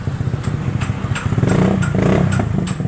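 A Honda Beat scooter with a modified, drilled-out exhaust and a carburettor revs close up, giving a loud, choppy, pulsing engine burble that swells and rises in the middle of the clip.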